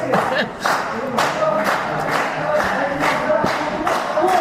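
A wrestling crowd at a match between Billy O'Keefe and Ian Creed, a steady roar of cheering and shouting with scattered claps and rhythmic surges throughout.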